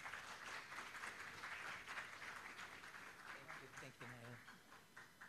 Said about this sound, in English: a round of applause for our guest speaker for today, Mr. Rex Mendoza.